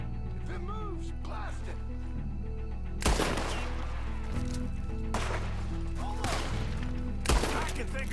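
Gunfire in the Red Dead video game: several sharp, loud shots spaced a second or two apart over a continuous low musical drone, with faint game voices in the background.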